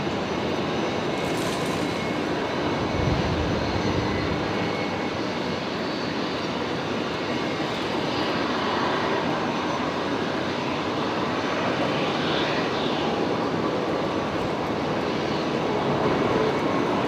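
A Singapore Airlines Airbus A350-900 taxiing out, a steady, moderately faint jet engine rumble and hiss holding evenly throughout with no sharp events.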